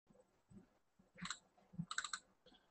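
Quiet computer keyboard typing comes in short, irregular bursts of crisp clicks and key taps, close and alone with no talking.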